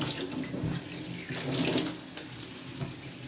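A kitchen tap runs steadily while beef tripe casing is rinsed under it by hand, making a close, splashing stream of water that shifts as the meat moves beneath the flow.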